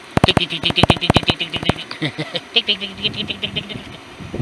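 A rapid series of sharp electric clicks from a heater igniter, then a softer buzzing, ticking rattle, close by, with no ignition catching.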